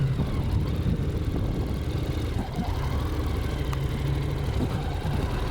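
A Honda NC750X motorcycle engine idles with a soft, throaty, steady low rumble, fairly quiet and continuous without talk.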